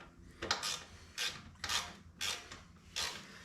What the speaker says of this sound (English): you grab your ratchet, which you have conveniently placed out of reach